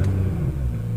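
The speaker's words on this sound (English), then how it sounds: "now that the engine is idling" A Nissan GT-R with a race front-mount intercooler idles in a steady low rumble that holds even and close throughout.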